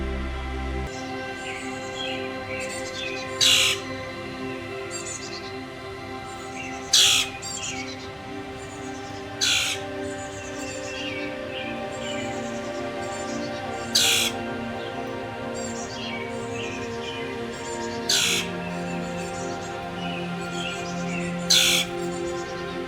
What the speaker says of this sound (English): Hang on, I hear some birds.